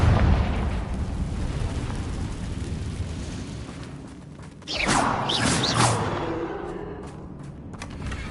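A Confringo blasting spell in the Hogwarts Legacy video game goes off with a loud burst that flares midway through a dense, rumbling battle din, with crackling debris and blasts trailing off afterward.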